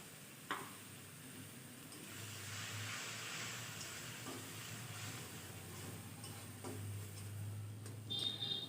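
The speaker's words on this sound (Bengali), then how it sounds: "এখন সামান্য পরিমাণে জল দিয়ে এখন ভালো করে কষিয়ে নেব" Spice paste with a splash of water being fried and stirred in a pan for a besan potato and pointed gourd curry, a soft low hiss with a few sharp clicks of utensil against pan, faint and close.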